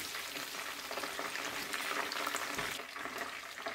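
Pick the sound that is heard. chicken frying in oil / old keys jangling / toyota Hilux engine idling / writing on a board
chicken frying in oil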